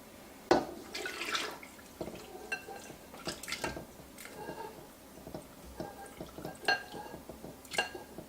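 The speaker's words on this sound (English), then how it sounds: "Now I'm going to add the chocolate water that we made earlier." Chocolate water being poured into German chocolate cake batter in a mixing bowl, with close liquid splashes, drips and light clinks of the bowl scattered irregularly at low volume.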